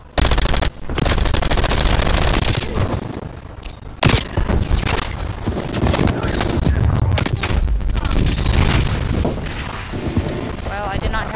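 A big gun firing in a video game, a dense, loud, continuous roar of rapid shots and booms running throughout, with a voice talking over it.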